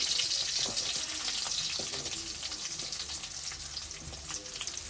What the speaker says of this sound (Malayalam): എണ്ണ നിറച്ച് കുറച്ച് ഇഞ്ചി ഇട്ട് കൊടുക്കാം കറിവേപ്പില എടുത്ത് അതിനോട് തന്നെ നമ്മുടെ സവാള ഇട്ട് കൊടുക്കാം